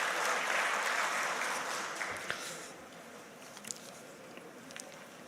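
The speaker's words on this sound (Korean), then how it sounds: "박수로 이렇게 받겠습니다" A congregation at a church general assembly applauds, a dense wash of clapping that fades over a few seconds into scattered claps.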